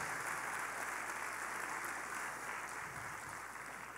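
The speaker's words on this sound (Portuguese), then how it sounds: "Vamos dar um forte aplauso para quem fez isso," A room of people applauds the team who spent a night with 75 teenagers at a family church gathering, a dense, even patter of clapping that sounds faint and distant and tapers slightly at the end.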